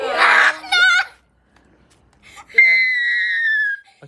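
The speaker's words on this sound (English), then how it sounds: "can you scream A bit quieter" A child screams in two shrill outbursts, the first short and wavering, the second a long sustained high-pitched shriek after a brief silence, loud and close indoors.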